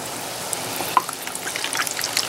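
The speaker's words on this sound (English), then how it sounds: "We're gonna put them in the oil with the seam down." Cannoli shells dropped seam-down into hot frying oil at medium-high heat, about 350 degrees, four at a time, give off a continuous close hiss with bubbling and scattered small pops.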